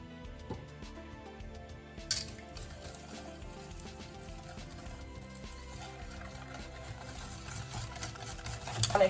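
Banana bread batter with vanilla extract being mixed in a bowl by hand: soft, irregular scraping and wet stirring close by, with a few clinks and a louder burst of handling near the end, no talking.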